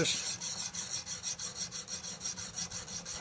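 Axe edge sharpened on a KME sharpening system, a rapid rhythmic rasping of stone strokes across steel, about fifteen even back-and-forth passes, close and fairly quiet.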